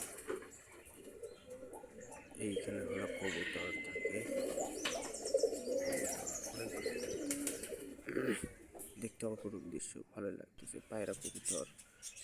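Pigeons coo at a zoo-like animal enclosure, their soft repeated calls and other bird chirps mixing with talk and crowd background noise throughout.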